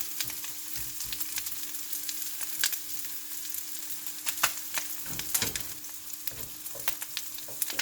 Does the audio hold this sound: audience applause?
no